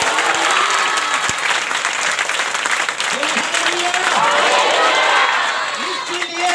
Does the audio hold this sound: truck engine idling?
no